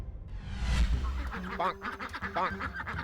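Ducks on a duck farm quack in a few loud nasal bursts close by, mixed with a rushing whoosh and voices talking over them.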